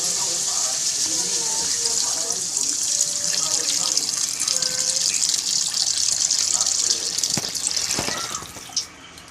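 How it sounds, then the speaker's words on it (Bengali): Water poured into a pot of cooking potatoes, a steady loud gushing splash for most of the stretch, tapering off near the end with a couple of small knocks. "এবার আলুতে জল দিয়ে দেবো"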